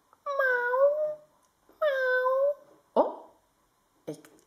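Cat meowing indoors: two clear, drawn-out meows, then two short, sharp chirping mews, close and alone.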